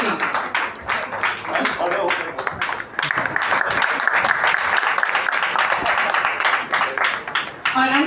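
Audience applause after a Hindi/Urdu poetry performance, a dense, steady roll of many hands clapping for several seconds, with speech running over part of it.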